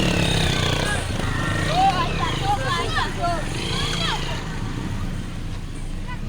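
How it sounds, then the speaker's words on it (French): Outdoor road scene in Kibumba, 15 km from Bukavu, with motorcycle engines droning and passing as children push motorcycles, mixed with a crowd of voices talking and shouting nearby. "Vous voyez ici les enfants en train de pousser les motos."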